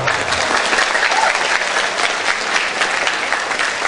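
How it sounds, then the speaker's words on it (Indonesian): Audience at a Buddhist dhamma talk on success in dharma and career claps together in steady, dense applause that fills the room from start to finish, with no talking over it. "tepuk tangan dulu kalau kita semua"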